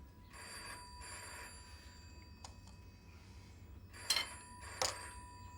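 A telephone bell rings in short repeated bursts from inside a room, each ring bright and metallic with pauses between, loud against a low background hum.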